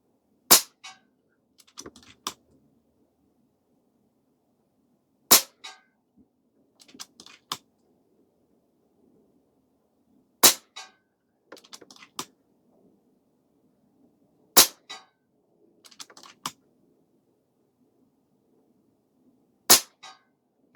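Five sharp cracks from an Air Venturi Avenge-X .25 PCP air rifle come at spaced intervals, each shot followed by softer mechanical clicks of cycling the action in a quiet setting.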